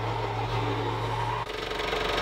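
A scroll saw cuts wood with a steady mechanical buzz, loud and close. The motor tone shifts partway through as the blade works the wood, with no talking.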